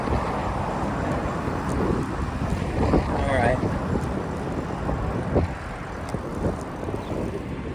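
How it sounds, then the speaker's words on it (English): Strong wind buffets the microphone outdoors in a steady, rough roar with gusty swells, and scattered clicks and knocks sit on top. "I know it's windy."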